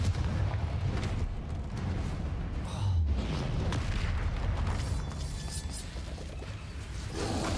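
Confringo blasting spell cast in a wizard game, booming explosive blasts and whooshes layered over a dense, continuous battle din.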